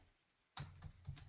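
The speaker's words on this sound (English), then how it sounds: "I'm going to type in" Keys on a computer keyboard are typed in a quick, close run of soft clicks that starts abruptly after a moment of near silence.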